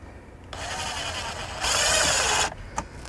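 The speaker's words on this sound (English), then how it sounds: "slowly screw each of these screws through the retainer and through the extruded aluminum" A power drill drives screws through a curtain retainer into extruded aluminum in a Mercedes Metris van, with a steady whine that rises to a louder, higher pitch as the screw seats and then stops. A click follows.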